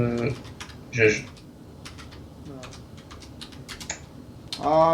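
Computer keyboard keys click in a few short, scattered bursts, with a voice talking in between.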